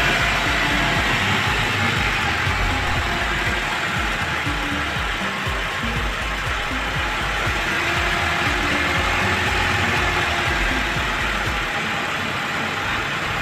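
A fuel-injected car engine idles steadily during a tune-up, a continuous dense hum and rumble with no changes in pitch. No voices are heard over it.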